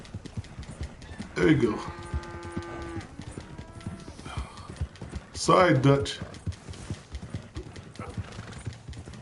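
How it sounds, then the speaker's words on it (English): Horse hooves clip-clopping at a gallop in Red Dead Redemption 2, a steady rhythmic patter running throughout under game sounds, with a horse snort or whinny and someone talking briefly over it. "Gallop can cause your horse stamina to drain quickly"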